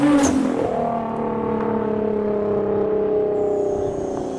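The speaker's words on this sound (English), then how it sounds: "we're waiting for the GTR to come back around, get a little flyby" A Nissan GT-R sweeps past, a loud engine roar that peaks early then fades into a sustained droning tone as the car moves away into the distance.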